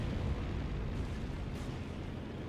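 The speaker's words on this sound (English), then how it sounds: "Oh, that was an incendiary bomb." An incendiary bomb goes off in Company of Heroes 2, a sustained low rumbling roar of fire and blast that fills the whole moment without clear separate hits, moderately loud and with no talking.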